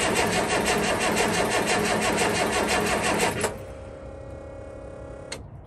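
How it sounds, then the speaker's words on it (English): Diesel truck engine cranking in cold winter weather, a rapid rhythmic starter churn for about three and a half seconds, then the engine catches and settles into a steady, loud idle with a brief knock near the end. "I know it can crank now if I keep trying it."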